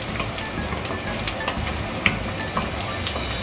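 Oil splatters hard in a pan while frying pork for pakbet: a dense, loud sizzle filled with sharp crackles and pops scattered unevenly throughout, close up and with no talking.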